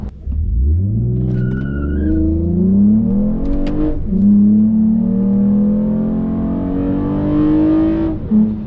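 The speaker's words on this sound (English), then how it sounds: "There isn't as much intake and MagnaFlow noise." A Toyota Camry with a MagnaFlow exhaust revs and accelerates hard, its pitch climbing through a gear change, with a throaty exhaust drone and intake roar close by.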